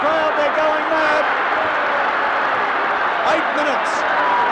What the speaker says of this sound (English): listen to the crowd, they're going mad